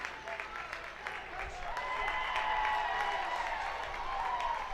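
A baseball stadium crowd cheering and applauding as it rises, a broad roar swelling in the distance, with people talking over it.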